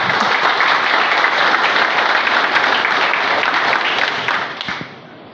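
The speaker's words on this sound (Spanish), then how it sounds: "debemos darle un buen aplauso" Dense applause from a crowd at a public accountability meeting in Juan de Herrera, San Juan, steady for about four seconds before tapering off into scattered claps.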